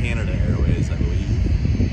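A Canada Airways airliner passing near San Diego during plane spotting from a van roof, its broad, rumbling jet roar steady and fairly loud, buffeted by wind noise on the microphone, with a voice talking over it.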